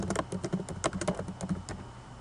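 Rapid typing on a computer keyboard, a steady run of close, crisp key clicks with short uneven pauses, heard alone.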